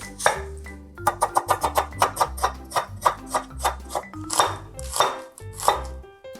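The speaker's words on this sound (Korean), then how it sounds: "양파 반 개만 썰어 놓을게요" A knife chops an onion rapidly against a cutting board, quick bursts of sharp taps with brief pauses between runs, close up and without talk.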